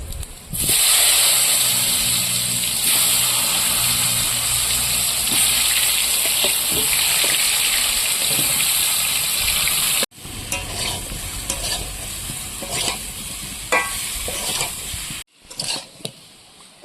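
Raw green mango pieces for a sweet-sour pickle hit hot oil already holding two dried chillies and panch phoron, bursting into a loud sizzle. After abrupt cuts, quieter bubbling continues with frequent scraping and clinking of the stirring spoon.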